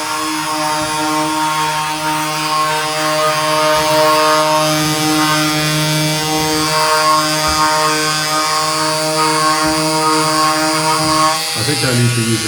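An Einhell Varrito multitool sands at its lowest speed setting, held flat against the work. It gives a steady, loud, close hum with a constant pitch, then changes abruptly near the end.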